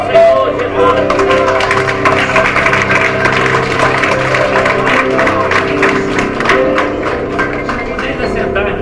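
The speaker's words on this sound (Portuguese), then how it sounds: "Aplauda o Senhor Jesus." Congregation clapping together during a church service held aboard a cruise ship, a dense steady wash of applause mixed with music and voices, loud and continuous throughout.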